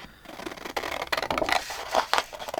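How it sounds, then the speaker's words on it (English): Big scissors snip through paper for envelope crafting in a series of short, crisp cuts near the mic, irregular in rhythm, with faint rustle between strokes. "I like to use my big scissors when I cut"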